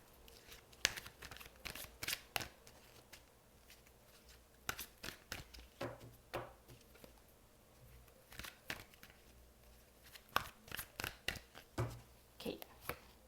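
Tarot cards are shuffled by hand in quick riffling bursts, close and fairly quiet, arriving in irregular clusters with brief pauses in between.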